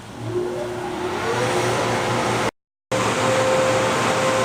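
Engine of a 2008 Mazda 6 accelerating smoothly, a steady mid-pitched hum with a faint rising tone, briefly cut by a short gap of silence before continuing.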